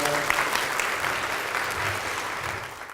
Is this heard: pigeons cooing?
no